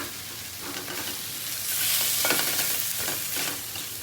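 Potatoes frying in a pan and starting to stick to the bottom. A busy sizzle swells as a spoon stirs and scrapes them in several quick strokes, and no one speaks.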